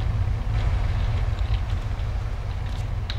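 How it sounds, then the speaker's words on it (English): A train in the video game GTA San Andreas rolls past as a loud, heavy, continuous low rumble with rattling clatter on top, steady throughout and with no talk. "I got run over by a train from here."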